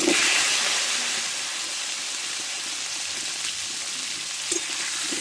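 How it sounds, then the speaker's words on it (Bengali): Pointed gourd (potol) frying in oil seasoned with salt and turmeric gives a steady, close hiss and sizzle with faint stirring scrapes, and no voices. "দেবো একটু হলুদ গুঁড়ো দিয়ে কেটে ধুয়ে রাখা পটলগুলো দিয়ে দেবো"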